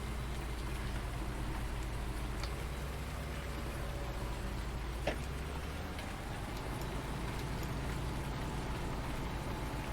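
Rain in the video game Farming Simulator 19, a steady soft patter over a low engine hum with a faint tick here and there, with no voices.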